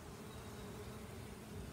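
Ground nesting bees buzz in a faint, continuous low drone, a soft steady hum of many insects outdoors with no voices.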